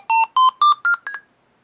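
Five rising electronic beeps in quick succession, each a short bright square-wave tone stepping up in pitch, the stairs-ascending sound effect from the Apple II game Castle Dain, ending in silence.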